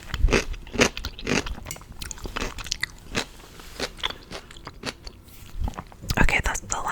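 Close-miked biting and crunchy chewing in a whispered ASMR setting, with sharp repeated crunches spaced irregularly throughout and a denser cluster of crackly bites at the end, with no speech.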